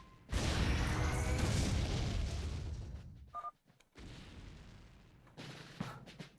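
Explosions from a Crazy Arcade custom map played in StarCraft, where bombs blow up grass piles: a sustained roar of overlapping booms, a brief lull with small blips, then further blasts.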